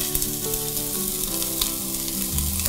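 Onion sautés in olive oil inside an Instant Pot, a loud, close, continuous sizzle and crackle with faint stirring clatter underneath, no talking.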